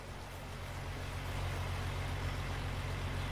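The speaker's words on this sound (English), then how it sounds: "Let's follow this lorry on its journey," A lorry in Farming Simulator 19 rumbles along with a steady low engine drone, constant and fairly close, growing slightly louder, with no talking.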